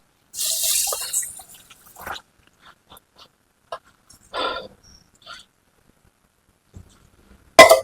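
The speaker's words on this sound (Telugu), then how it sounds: "సో వాటర్ పోసుకుని నానబెట్టుకుందాం" Water is poured over rice to soak it for egg biryani, heard as a few separate close splashing pours with quiet gaps and faint small knocks between them.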